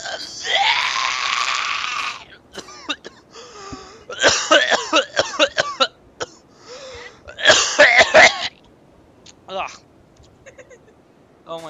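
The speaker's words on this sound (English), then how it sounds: "Imagine that I coughed up my lungs." A person coughing in a series of harsh, raspy bursts, with throat clearing and wheezy breaths between them, close and loud, separated by short silences.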